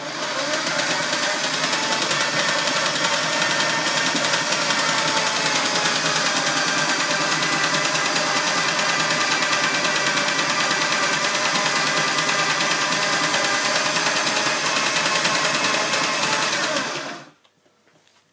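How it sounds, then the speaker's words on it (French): Electric motor of an automatic chicken coop door runs with a steady, loud mechanical whir and hum, continuing evenly for about seventeen seconds before cutting off abruptly into near silence. "le moteur est alimenté"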